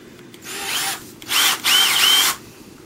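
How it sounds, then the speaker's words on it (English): A power drill with a screwdriver bit, installing Venetian blinds, whirs in three short bursts, the motor pitch rising and dipping as it spins up, with brief pauses between runs. "that way we have some power from the drill to make it work"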